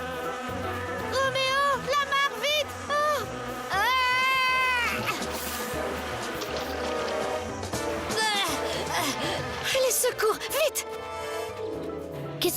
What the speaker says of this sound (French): Un essaim d'abeilles?